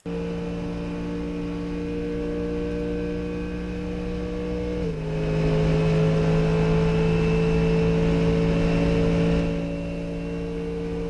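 Race car engine in Assetto Corsa Competizione held at a steady loud drone through a lap, with one gear change around the midpoint and a rise in pitch afterward.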